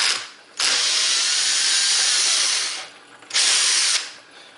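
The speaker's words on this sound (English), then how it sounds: "That was just the torque of the wrench." A powered driver buzzes loudly in two bursts, a long one then a short one, backing out screws on a BIQU B1 printer head, close up with no talk.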